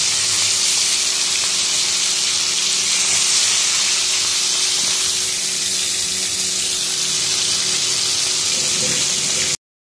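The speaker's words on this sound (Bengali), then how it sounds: "আগে কাতলা মাছগুলো ভাজবো, তারপরে কই মাছগুলো ভাজবো।" Pieces of katla fish frying in hot oil in a kadai wok, a steady close hissing sizzle with faint crackle that runs evenly throughout and cuts off abruptly at the end, with no talking.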